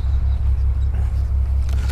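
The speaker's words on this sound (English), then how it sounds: "that sounds like a cylinder's down. Or a cylinder's still firing, but it's not firing properly." A BMW E92 335i with the N54 engine idles roughly with a misfiring cylinder, a steady deep rumble with an uneven, lumpy pulse throughout, heard close and alone.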